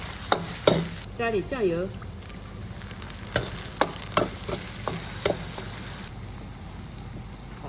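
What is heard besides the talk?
stir-frying ingredients in a pan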